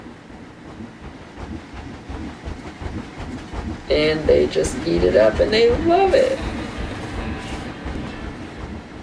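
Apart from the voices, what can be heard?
theme park railway train running in Planet Coaster video game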